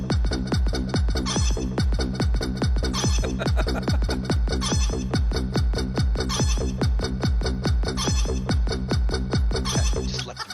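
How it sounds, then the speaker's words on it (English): A loud, dense track of chicken clucks and rooster crows repeats over a steady pounding beat, running continuously and evenly throughout. "Don't even try to talk over the chickens. Just let them dance."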